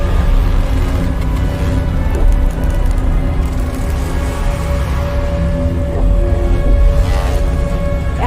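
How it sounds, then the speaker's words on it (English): Gravitational waves from a light black hole falling into a much heavier one, rendered as a dense, continuous rumbling roar with faint recurring thumps, loud and steady throughout with no voices. "The sound you're hearing is a light black hole banging on space each time it gets close"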